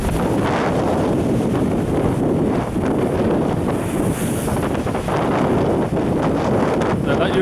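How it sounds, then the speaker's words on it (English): Strong coastal wind buffets the microphone in a constant heavy roar at Saltom Bay in rough weather, with gusts rising and falling and faint waves beneath. "it's really, really windy"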